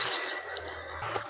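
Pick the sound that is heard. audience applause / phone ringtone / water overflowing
water overflowing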